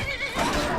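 A horse in the Skyrim video game neighs and whinnies loudly through the short clip, a close, continuous call with no talking over it.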